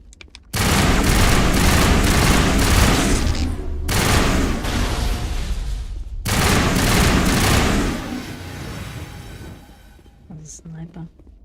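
Heavy gunfire during combat in Mass Effect Legendary Edition on Insanity difficulty, including a sniper: loud sustained bursts of shots in three long volleys separated by brief pauses, then a few quieter sounds at the end, with voices mixed in.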